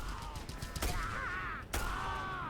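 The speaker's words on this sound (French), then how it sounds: "Cette mitrailleuse va poser problème." Machine gun fire in a video game: rapid bursts of crackling shots under a busy game soundtrack, with sustained tonal music and a couple of sharp louder impacts standing out.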